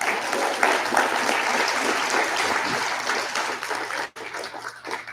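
Audience applause at a school Veterans Day assembly, dense sustained clapping from a large crowd that drops off suddenly near the end.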